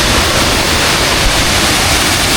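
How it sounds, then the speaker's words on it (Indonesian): The Tirto Galuh waterfall in Blitar roars as a dense, steady, loud rush of falling water with no voices. "Inilah air terjun Tirto Galuh"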